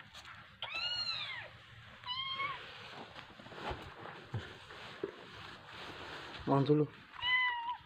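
Abandoned young kitten at a market gives repeated high meows, several clear calls spread across the stretch with a loud cluster near the end, close to the recorder, with people talking around it and street bustle behind.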